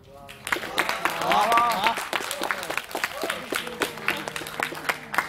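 Audience applause at a talk on writing and politics at Punjab Engineering College, Chandigarh, a steady crowd of clapping that swells near the middle, with voices and cheers mixed in.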